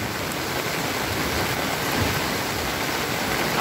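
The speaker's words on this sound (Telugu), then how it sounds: "ఇక్కడ పెద్ద కోనేరు పూర్తిగా మునిగిపోయింది నీళ్ళు" Floodwater flows at the Mahanandi temple tank in Kurnool after heavy rain, a loud, unbroken rushing roar like a torrent, with no talk over it.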